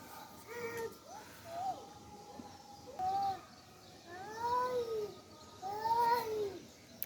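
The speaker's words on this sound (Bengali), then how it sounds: "কই ম্যাও কই? ম্যাও তো ওই যে" A cat meows several times in drawn-out, rising and falling calls, fairly close. Soft background noise and faint voices are also present.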